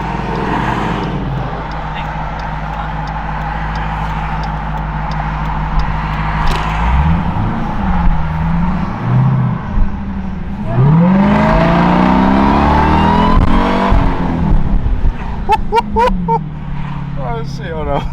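A 2023 Dodge Durango Hellcat with a muffler delete, heard from inside as a loud, deep exhaust drone with rising and falling revs and a whining surge under acceleration, while people talk over it.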